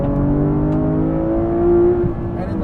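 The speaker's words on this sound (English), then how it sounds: "Heavy braking zone here, yep, into the ABS." Inside a Porsche 911R braking hard into ABS, the engine note holds as a loud, steady drone and eases slightly near the end, close and continuous.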